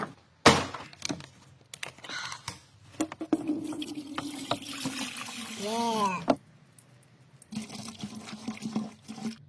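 Distilled water pours and trickles in short bursts while a V12 Mercedes is being serviced, amid clattering and handling noises, with a voice speaking briefly nearby.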